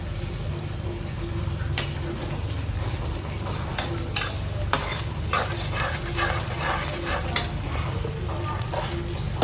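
Curry leaves crackle in hot oil with onions while a utensil stirs and scrapes the pan, giving repeated sharp clicks and knocks over a continuous close sizzle, with no speech.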